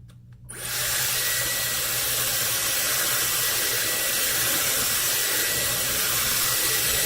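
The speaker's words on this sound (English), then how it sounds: "I can feel the heat blowing on my hair and I'm brushing it out." A Dyson Airwrap blows hot air onto hair being brushed out. It switches on with a quick rise into a loud, steady whoosh of airflow and motor whine that runs unbroken at close range.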